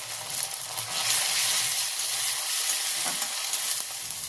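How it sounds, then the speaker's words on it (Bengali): Ginger and garlic frying in hot cooking oil while being stirred, a steady bright sizzle with a few scraping strokes from a stirring utensil, loud and close, no voices. "আদা রসুনটা তেলের মধ্যে দিয়ে দিচ্ছি, দিয়ে আবারও নাড়াচাড়া করে ভেজে নিচ্ছি"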